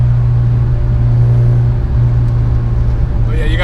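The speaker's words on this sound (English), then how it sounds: "You can hear that drone when you're giving it throttle" Acura RSX engine droning steadily under throttle in 4th or 5th gear, a loud continuous low hum filling the cabin, with a brief rising whine near the end.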